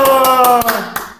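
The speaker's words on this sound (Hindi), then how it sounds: "तालियां।" A few sharp hand claps, each a separate burst, greet a Gurugram rapper at the start of a song interview, close and loud over a sustained tonal background.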